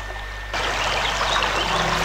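Water trickles and splashes on the loading screen of the video game Anna, starting abruptly after a short quiet hum and then running as a steady, close stream.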